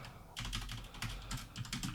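Quick, light keystrokes on a computer keyboard tap out a steady, close run of clicks over a couple of seconds, with no voice over them.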